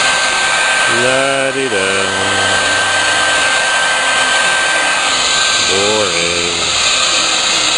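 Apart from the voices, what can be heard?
heat gun shrinking heat-shrink tubing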